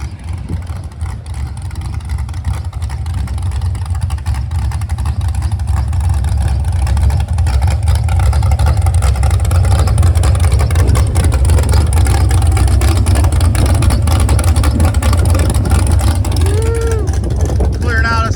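An LS-swapped car engine idles steadily while warming up at a shop burnout pad, a loud continuous low rumble throughout with faint background voices.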